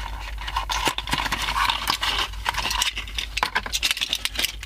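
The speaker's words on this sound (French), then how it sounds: "Donc on va déballer." Unboxing a small box of SMOK RPM pod vape coils, including a 1.2 ohm quartz coil: close, scattered clicks, light rattles and packaging handling noises.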